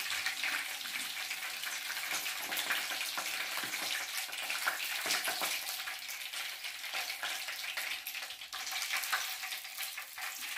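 Chicken skin frying in a pan, a steady dense crackling sizzle with fine spattering pops, close and continuous throughout with no talk.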